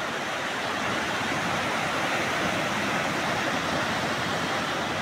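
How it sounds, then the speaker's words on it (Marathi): Sea waves wash in continuously at Guhagar beach as the tide rises, a loud, steady broadband surf roar without pauses, close by, with no voices over it. "भरतीचं पाणी येतंय मागं"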